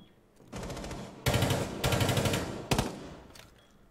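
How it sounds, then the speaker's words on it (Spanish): Automatic gunfire in Rainbow Six Siege: several loud, rapid bursts with short pauses between them, the last one brief, with no voices over the shots. "¿Por qué ha disparado ahí así?"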